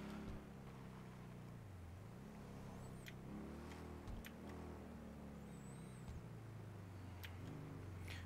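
A car engine in GTA 5 revs up and down repeatedly, its pitch rising and falling with throttle, steady and fairly quiet throughout, with a few faint high squeaks in the background.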